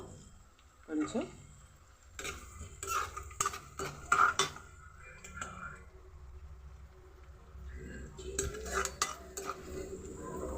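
Curry leaves go into a pan of fried onions for an okra pulusu, bringing a soft sizzle broken by stirring scrapes and metallic clinks of a spoon against the pan, with a voice speaking.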